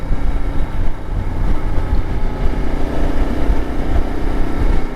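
A 2025 Yamaha Tenere 700 motorcycle riding on a street heard from the saddle, a loud constant low engine drone mixed with heavy wind rush against the microphone.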